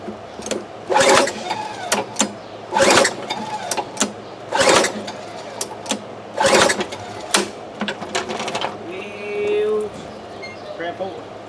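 A 1998 Sears & Roebuck lawn mower engine, suspected of a coil or ignition fault, is cranked in several sharp bursts about every two seconds without catching, with a short mechanical whir near the end.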